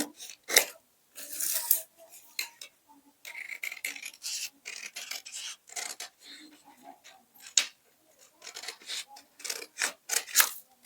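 Scissors snip and rasp through blouse pattern fabric or paper in a series of irregular cuts, close and crisp, separated by short quiet gaps.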